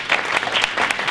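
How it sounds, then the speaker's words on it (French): Conference audience applauding two debate speakers at the close of a talk on US extraterritorial law, a steady burst of clapping from many hands filling the room, loud and continuous. "Je pense qu'on peut applaudir les deux intervenants."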